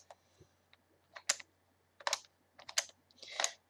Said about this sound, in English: this puzzle has ball bearings, which makes it click into place like this